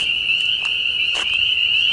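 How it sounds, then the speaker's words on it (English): A steady high-pitched chorus of frogs in a pond drones outdoors in Tulsa, with a few brief croaks breaking through the constant trill. "Bunch of frogs."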